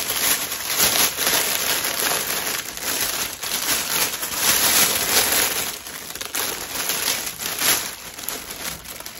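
Crinkly plastic bag rustles and crackles steadily up close as a beer glass is placed inside, with irregular bursts of crumpling and no voices.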